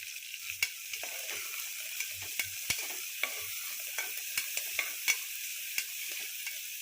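Mutton frying in a pan with onions, green chillies and fenugreek leaves gives a steady bright sizzle, punctuated by frequent light clicks and scrapes of a spoon stirring against the pan.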